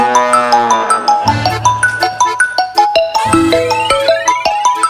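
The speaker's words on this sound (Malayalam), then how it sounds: "നിങ്ങളുടെ ഫോണല്ലേ വിലടിക്കുന്നത്?" A mobile phone rings with a bright, repeating melodic ringtone of quick chiming notes, loud and close, playing alone without any talk.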